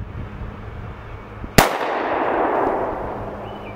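A single sharp Altor 9mm pistol shot cracks out loud and close after a quiet lead-in, its report ringing and decaying over the next couple of seconds.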